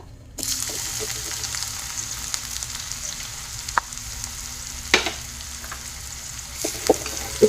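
Chopped onions drop into hot oil in a pan for paneer masala, setting off a steady, bright sizzle and frying hiss with a few stirring clinks and scrapes, close and without talk.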